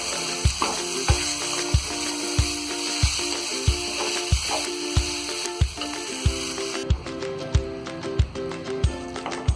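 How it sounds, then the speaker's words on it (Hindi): Chilli chicken sauce thickened with cornflour cooks in a pan, a steady sizzle with regular scraping stir strokes about every half second, close and fairly loud, with no talking. "सारी चीजों को हम अच्छी तरह मिक्स कर देंगे और इसे हम तब तक पकाएंगे जब तक कि ये कॉर्नफ्लोर का कच्चापन दूर नहीं होगा।"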